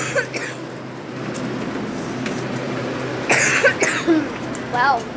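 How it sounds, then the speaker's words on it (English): Several sharp coughs burst out under steady background noise in a hotel at night, the loudest coming in a quick cluster near the end. "now I have to cough."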